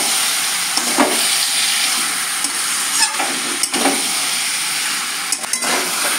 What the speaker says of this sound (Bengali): এই যে চিংড়িটা দিয়ে আমি এবার কষাবো